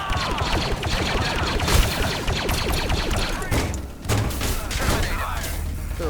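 Blaster gunfire from a DC-15A in the VR game Blade and Sorcery rattles in dense, loud bursts with thuds and impacts, mixed with shouting voices throughout the battle.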